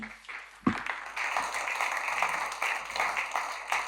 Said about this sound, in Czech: Tak poprosím potlesk pro naše hosty.